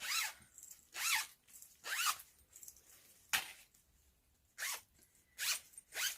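Zip sliders rasp along a length of zip taken from a roll, in six or seven short scratchy bursts with brief pauses between, close and fairly loud, with no talking.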